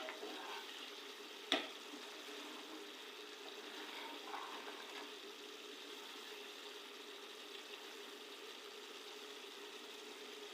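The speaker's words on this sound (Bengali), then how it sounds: "এভাবে আরও কিছুক্ষণ ভেজে নেব আমি।" Goat brain (mogoj) fries in a pan with a faint, steady sizzle that holds throughout. A single sharp click of a utensil cuts in near the start.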